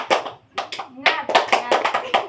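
A class performs the tepuk semangat clap chant, a few claps, a pause, then quick clusters of sharp hand claps close by, with children's voices calling along between them.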